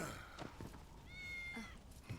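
A cat meows in Final Fantasy 7 Remake, one fairly clear drawn-out mew in the middle of the moment, moderately near, with soft game ambience and brief vocal sounds around it.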